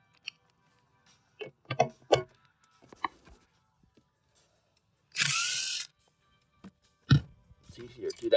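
A power tool whirs in one loud, sustained burst of under a second while spinning off a 10 mm nut that holds a fuel pump bracket on a 2008 Mercedes-Benz GL450, with someone talking and metallic clicks before and after.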